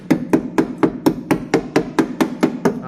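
Hammer blows ring against the rusty underbody metal of a Toyota Aygo track car, about a dozen sharp, evenly spaced strikes in steady rhythm, loud and close with no talking.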